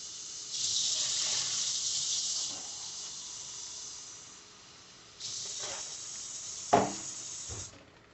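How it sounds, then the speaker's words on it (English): Tap water runs steadily into a bowl while measuring cups for ramen, a soft continuous hiss that stops, then resumes with a brief splash and clunk near the end. "I'm going to put some water in there, and I will measure this."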